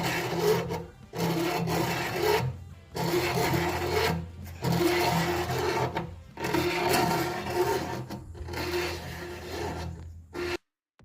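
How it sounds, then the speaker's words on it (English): A ridge reamer cuts the lip at the top of an engine cylinder bore, making rhythmic grinding, rasping strokes in bursts of about two seconds separated by short silent pauses. "You can see the ridge reamer is just starting to take the top edge, the bottom edge of the lip off."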